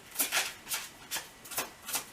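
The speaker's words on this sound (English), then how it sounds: "So let's pull some cards here from, I think this is the Cosmovision Oracle cards here" Cosmovision Oracle cards shuffled by hand: a series of soft, papery riffles and swishes in a loose rhythm, close and fairly quiet.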